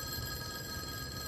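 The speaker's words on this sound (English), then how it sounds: "Phone's ringing again." A telephone bell rings steadily in a room, a faint continuous electronic trill with no voices over it.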